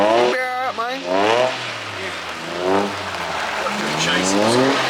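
Drift cars with GKTech rear diff braces on G35 and 350Z chassis slide around a course, engines revving and tires squealing in sustained bursts, with people talking and shouting over the noise.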